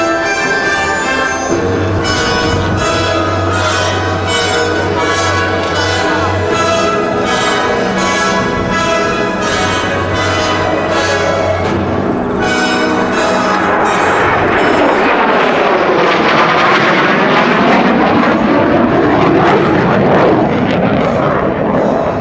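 An Australian F-111 swing-wing jet at an airshow roars past at full power, a loud continuous rumble with shifting tones that sweep as it passes overhead and pulls away.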